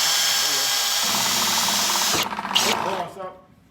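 A power drill whirs steadily into wood while building a garden compost bin, loud and close, then winds down into ratcheting stops and fades out, with people talking nearby.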